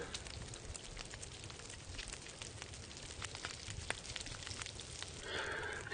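A fire crackles steadily in The Long Dark survival game while food cooks over it, with dense popping and snapping throughout and a brief surge of hissing near the end.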